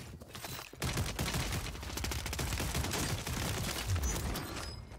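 Rapid gunfire bursts in a video game, shotgun blasts mixed with dense overlapping shots and mechanical clatter, loud and continuous after a brief quieter start, no talk.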